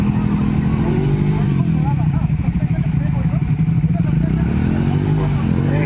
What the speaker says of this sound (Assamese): বাইক পূৰা শ্লিপ খাই আছে।